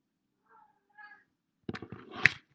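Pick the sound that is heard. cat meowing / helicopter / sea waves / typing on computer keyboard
cat meowing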